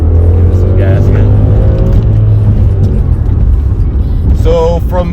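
Audi S6 with a V10 engine pulling hard under throttle, a loud steady engine drone with rising harmonics throughout, heard from inside the car.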